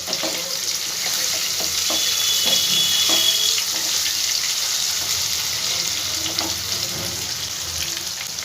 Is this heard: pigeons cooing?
no